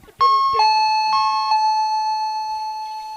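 A doorbell chimes twice, two clear ding-dong tones with a long ringing decay, alone and close by.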